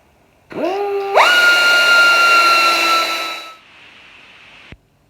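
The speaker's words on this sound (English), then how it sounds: "we're actually going to take our Dremel and hone this out in order to fit the new cable" A Dremel rotary tool spins up with a rising whine, then holds a loud, high steady grinding tone while honing out a part to fit a new power cable, before winding down into a quieter hum and stopping.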